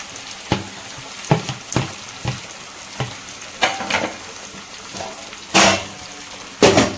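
Juicy tomatoes going into hot oil in a pan for a wedding-style rasam, crackling and sizzling loudly in bursts as they hit the oil and are stirred, with repeated sharp spatters and clatters.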